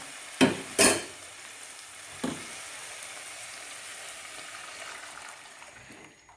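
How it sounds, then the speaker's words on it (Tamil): A couple of wet splashes as a thick ground masala paste is poured into a hot pan, followed by a steady, soft sizzle. "இப்போ நம்ம அந்த மசாலா அரைச்சி சொல்லி அதை ஊற்றிடலாம்"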